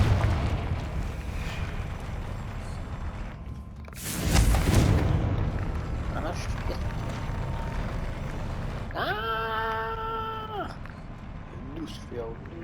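A Confringo spell explosion in Hogwarts Legacy bursts as one loud, broadband blast about four seconds in, set against steady game ambience, with a brief tonal magical shimmer later and a voice speaking over parts.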